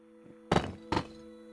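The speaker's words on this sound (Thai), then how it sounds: "เสียงทุบอย่างดัง" Two heavy, loud thunks land about half a second apart as blocks are broken in the Minecraft video game, alone with only faint background tones.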